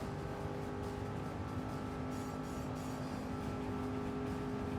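A race car engine in Gran Turismo 7 drones steadily and loudly throughout, a sustained mid-pitched roar with slight swells as the car races to catch a pack ahead.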